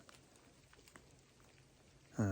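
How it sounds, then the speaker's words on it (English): Steady light rain falls around a hiker on a long-distance trail, a soft continuous patter close by, ending in a brief louder low sound. "if it's just like a rain like this, I'll just keep walking"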